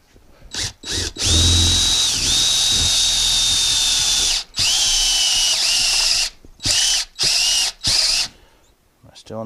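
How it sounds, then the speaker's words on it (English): A step drill bores through metal on a welding table, a loud close whining run that steps down in pitch as each larger diameter cuts, then several short stop-start bursts with brief pauses between. "I'm just running the step drill through it."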